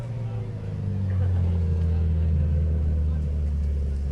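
Rally car crossing the finish line at a forest rally sprint qualifying round, a steady loud engine rumble swelling after the first second and holding, with a commentator talking over it throughout.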